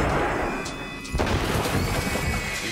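A cannon fires a single heavy boom at a horseman during a period battle scene, a sharp blast around the middle followed by rumbling noise over a dense, continuous battlefield background.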